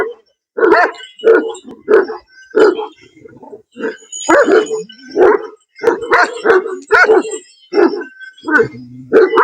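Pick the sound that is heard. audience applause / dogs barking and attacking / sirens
dogs barking and attacking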